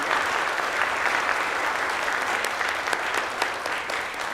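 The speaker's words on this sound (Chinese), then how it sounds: "我们一起来拍手欢迎他们进入我们荣光的家庭里" A church congregation at a Sunday Christmas service applauds to welcome four new members, dense steady clapping filling the hall throughout.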